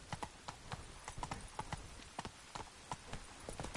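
In The Witcher 3: Wild Hunt, a ridden horse's hooves clip-clop at a quick, even pace, crisp repeated hoofbeats that stay fairly close and moderately quiet throughout.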